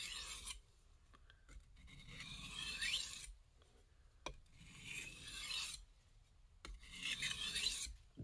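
A knife blade is drawn across an oil stone at a high angle to put on a final micro bevel. Three slow, raspy strokes come up close and quiet, with near silence between them.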